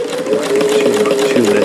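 Davis vertical feed long needle sewing machine stitching in a steady, rapid mechanical whir, loud and close, with a brief shift in pitch near the end.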